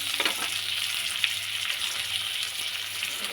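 Whole dried chilli, bay leaf and onion sizzle in hot oil, a steady close crackling hiss with small spits throughout, no voices.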